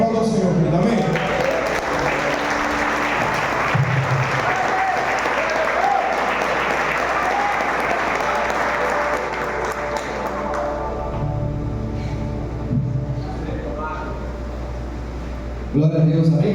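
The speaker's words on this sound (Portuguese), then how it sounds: "Aplauda ao Senhor, querido" A church congregation applauds in sustained, dense clapping that fills most of the clip, with a warm, full crowd texture that thins slightly toward the end; a hum runs steadily underneath.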